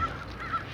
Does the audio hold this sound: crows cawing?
yes